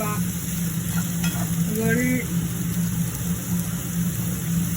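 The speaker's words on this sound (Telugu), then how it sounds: "కట్ చేసుకున్న ఉల్లిపాయలు వేసి, పచ్చిమిరపకాయలు వేసి, పచ్చిమిరపకాయలు గోల్డెన్ ఫ్రై బాగా ఏగిన వరకు" Chopped onions and green chillies fry in a pan for beans masala curry, a steady close sizzle over a low background hum, with a couple of quick stirring scrapes early on.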